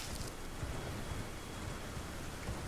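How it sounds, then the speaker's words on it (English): Steady, dense rain pours throughout during a sudden storm in Elden Ring: Shadow of the Erdtree, a constant hissing wash with low rumbling underneath and no distinct thunderclap. "Sudden onset storm here."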